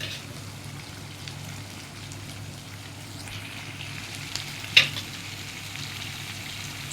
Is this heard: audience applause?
no